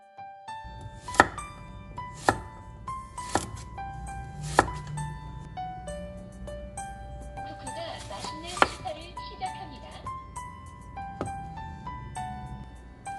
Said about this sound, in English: Cut 1 organic carrot into thin pieces.